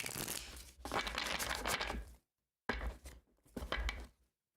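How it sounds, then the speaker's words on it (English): Tarot cards being shuffled close up, two or three bursts of papery riffling and slapping separated by short silences. "I'm going to shuffle some more cards here"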